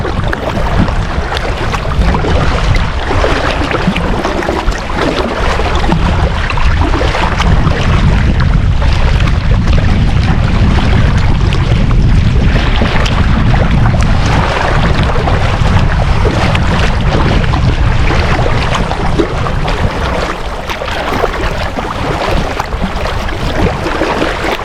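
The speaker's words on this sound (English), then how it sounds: "Just gonna keep on paddling." A canoe or kayak is paddled across South Silver Lake in Minnesota, with water washing and splashing against the hull under heavy, steady wind buffeting the microphone and no talk.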